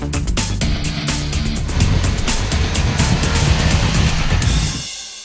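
An original BMW M3 revs hard and accelerates, its engine note climbing loud and close for several seconds before dropping away sharply at the end.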